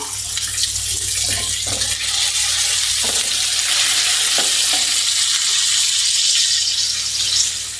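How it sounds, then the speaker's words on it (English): Loud, dense sizzling and crackling of ground beef patties frying, a constant close hiss with sporadic pops. "There, you can start hearing some cracking now."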